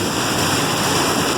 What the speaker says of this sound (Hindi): और लगता है ये बारिश बहुत देर तक चलने वाली है।